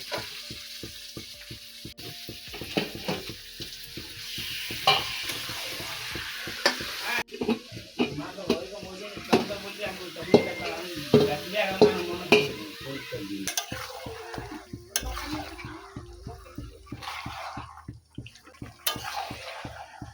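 Potatoes and eggs frying in a pan at an outdoor village picnic, with steady sizzling and repeated stirring and scraping throughout, fairly close and moderately loud, with little talk.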